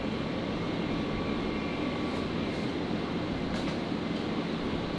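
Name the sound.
Alliance Airlines Fokker 70 jet arriving on runway 01 left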